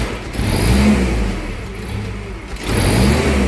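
A car engine being checked for an erratic idle revs up, settles back and then revs again, loud and close, with no talk.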